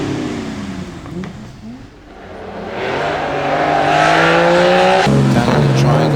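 A Speed 6 race car at the Loton Park hillclimb accelerates hard, its engine note rising and falling through gear changes, growing louder and nearer, with tyre noise and commentary voices under it.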